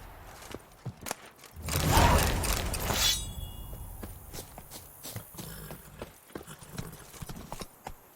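Roach, the horse in The Witcher 3, gallops with a rapid, loud clatter of hooves that swells early on, then settles into softer, scattered hoof falls and footsteps. No voices are heard.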